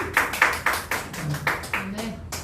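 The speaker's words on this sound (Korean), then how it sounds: "그래도 용기가 가상하니 박수 한번 칩시다." A church congregation claps together during a sermon, giving about ten quick, evenly spaced claps close by, with a voice speaking faintly underneath.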